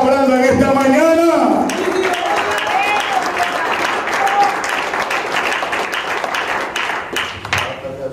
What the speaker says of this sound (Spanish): Dale un fuerte aplauso a Cristo, hermanito,